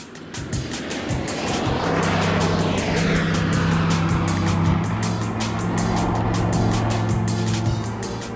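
Fighter aircraft roar overhead during a heritage flight display at an airshow, a loud continuous engine drone with a sweeping pass and shifting pitch, close and sustained with no talking.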